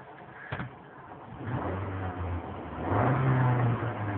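2010 Nissan Altima 2.5 SL sedan engine running nearby, a moderate mid-pitched hum that swells into a light rev partway through and stays steady to the end, with a brief click near the start.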